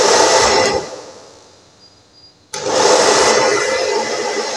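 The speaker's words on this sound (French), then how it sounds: "je vais utiliser un sèche-cheveux classique" A standard hair dryer blows a steady, loud broadband whoosh near a canary or goldfinch being groomed, dipping quieter midway as it is eased off, then surging back to full strength after a sharp restart.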